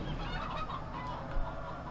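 Chickens clucking softly in a coop in the Farming Simulator 15 video game, a steady low farmyard murmur with one slightly louder cluck near the end.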